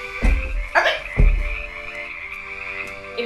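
A frog croaks in a few deep, throaty bursts spaced about half a second apart, close and fairly loud, with no talking.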